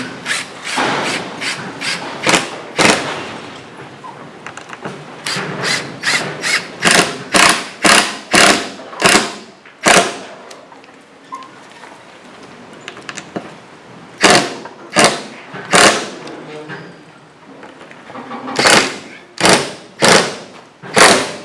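Screws being driven into the wooden frame of a boat during maintenance with new wood, a series of sharp ratcheting thumps and whirring bursts in repeated clusters, loud and close.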